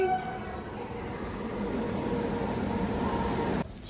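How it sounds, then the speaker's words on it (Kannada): A train arriving at a railway platform makes a steady rail rumble that builds slightly in loudness over a few seconds, and a faint horn-like tone comes early on. "Oh my God, train is coming."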